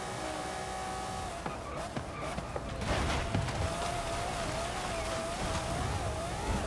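Cars racing in Forza Horizon 5 Eliminator mode, steady engine drone with a rising and falling whine and a few knocks, loud and continuous with no talk.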